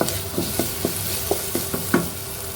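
Potatoes fry in a pan with salt and turmeric, a soft continuous sizzle broken by about eight sharp scraping clacks of a spatula stirring at an uneven pace, close and clear.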